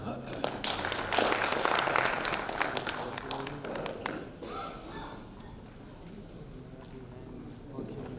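A conference audience applauds after a cardiology talk at a medical education event, a dense, moderately distant clatter of many hands that swells early and gradually thins, with voices underneath.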